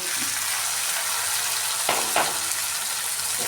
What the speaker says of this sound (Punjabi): ਹੁਣ ਆਪਾਂ ਟਮਾਟਰ ਜਿਹੜੇ ਕੱਟੇ ਸੀ ਉਹ ਵਿੱਚ ਪਾ ਦਾਂਗੇ